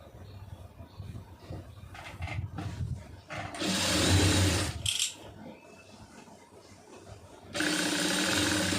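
A sewing machine stitches a poonam saree in short bursts of running motor between pauses, with fabric handling and rustling heard in the gaps.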